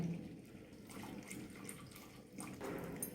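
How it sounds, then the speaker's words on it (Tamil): Boiled and cooled milk poured into a pot of green gram payasam, a soft steady liquid trickle and splash, faint and close, with no voices. "நான் 200 மில்லி ஒரு டம்ளர் காய்ச்சி ஆற வச்ச பால் எடுத்துருக்கேன். அதை இதில் விட்டுக்கிறேன்."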